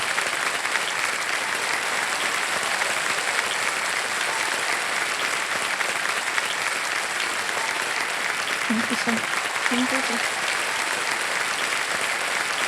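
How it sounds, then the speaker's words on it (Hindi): Studio audience applause on the Hindi quiz show Kaun Banega Crorepati Season 15, a dense, steady clapping that fills the whole stretch at an even level, with a host's voice faintly underneath. "तालियां बजती रहें इनके लिए."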